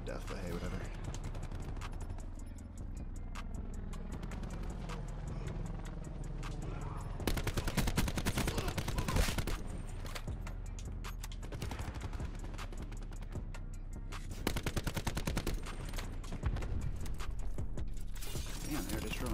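Rapid automatic video game gunfire rattles in dense, loud bursts, with sustained strings of shots broken by brief pauses, while a voice talks intermittently over it.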